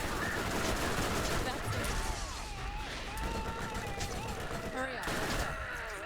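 A cannon weapon fires in the Borderlands video game amid dense, rapid bursts of gunfire and impacts, loud and continuous, while a voice speaks briefly over the action.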